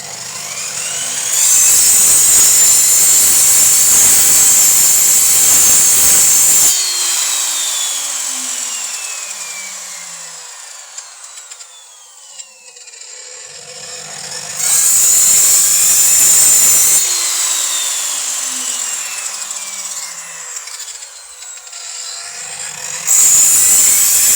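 Handsaw or power saw cutting through wood to form a tenon joint, two long loud passes of steady rasping with a pause between, heard alone without talk.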